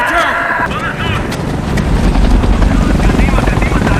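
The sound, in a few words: helicopter in a zombie film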